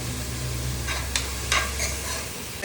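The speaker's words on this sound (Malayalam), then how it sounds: "ഇനി നന്നായിട്ട് അതൊന്ന് വഴറ്റി കൊടുക്കാം" Carrots with salt and turmeric are sautéed in a pan for aval upma. A soft continuous sizzle runs underneath, and a few distinct scraping strokes of a spoon stir through it, with no one talking.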